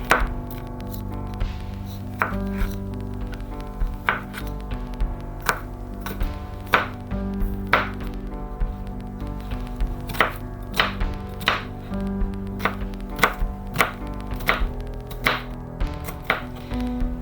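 A knife chops a yellow onion on a cutting board in a steady rhythm of close, crisp thuds, repeating about once per second with a few faster clusters, against quiet background music.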